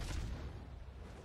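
A single naval gunfire boom from the World of Warships game, a faint low rumble that rolls and fades over about a second.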